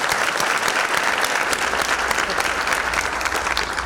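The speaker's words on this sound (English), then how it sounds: "please join me in giving a round of applause" A large audience at a scholarship breakfast applauds, a dense, loud and sustained clapping that holds steady for the whole stretch.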